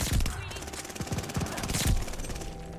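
Rapid bursts of gunfire in Call of Duty: Vanguard, fairly close and punchy, with quick repeated shots across the moment.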